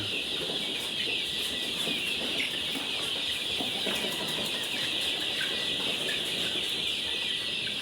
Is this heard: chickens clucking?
yes